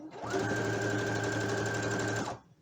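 A sewing machine hems fabric shorts at a slow pace, a close, steady mechanical whir lasting about two seconds before stopping.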